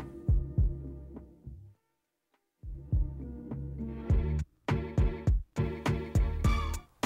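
Music plays through a d2 DJ mixer as its three-band EQ fully kills the sound, leaving a near-silent gap before the beat returns with rhythmic thumping kicks and bright hits.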